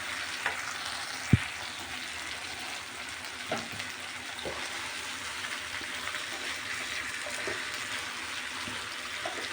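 500 grams of beef for picadillo fries in a pan, a steady close sizzle and crackle with a few sharp clinks and stirring scrapes scattered through, no speech over it.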